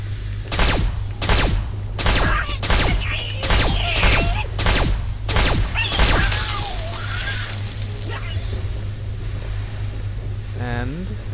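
Rapid gunfire from a 100-round high-capacity weapon in Fallout 3, a run of about eight sharp, evenly spaced shots over steady ambient hum, then fading into quieter background noise with a brief rattle near the end.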